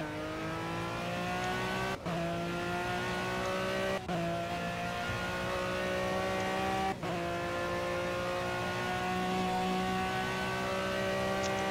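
Racing cars in a video game, GT3 and Clio machines lapping Monza, their engines droning steadily and loudly with harmonic whine, brief gear-shift dips at intervals, no voices.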